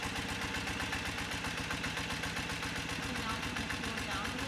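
A BMW motorcycle engine idling steadily after a carburetor idle-screw adjustment, a faint, even, rapid pulsing putter that stays constant throughout.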